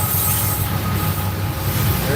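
Norfolk Southern freight train with a DPU locomotive rolling past at Berea, a loud continuous rumble of heavy rail cars and wheels close by, filling the whole moment without a break.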